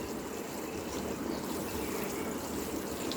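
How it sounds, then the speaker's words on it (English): Water streaming from a watering can's shower rose onto a potted houseplant, a continuous soft splashing trickle heard close by with no talking. "You have the watering can and the water is coming out to the shower."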